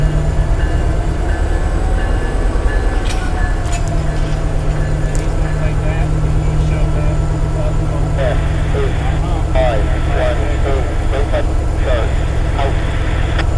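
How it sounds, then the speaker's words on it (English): A Norfolk Southern freight train rumbles steadily nearby as it is shoved back into the yard at DeButts, with a deep continuous drone and intermittent metallic squeals and clanks from the cars as it slowly moves. "Looks like he's getting ready to shove this train back into the yard."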